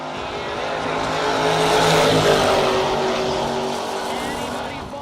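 A Chevy Nova drag car roars down the strip at a no-box drag racing event, its loud engine building to a peak and then fading as it passes, with an announcer speaking over it.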